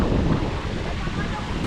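Wind blowing near a waterfall, a steady broadband rushing roar that fills the whole moment, close and fairly loud, with buffeting on the microphone.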